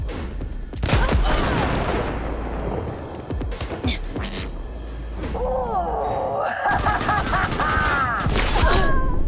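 Cyberpunk 2077 firefight with repeated bursts of loud gunfire and impacts, several separate volleys spread across the stretch, mixed with combat effects and a voice talking between shots.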